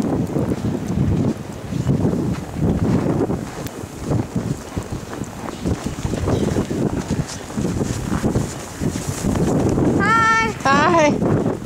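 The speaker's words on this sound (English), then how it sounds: "Snow blowing everywhere." Heavy blizzard wind from the 2013 Nemo storm blows snow in loud, gusting roars that buffet the microphone throughout, with a brief higher warbling sound near the end.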